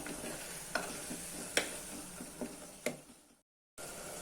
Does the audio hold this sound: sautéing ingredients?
yes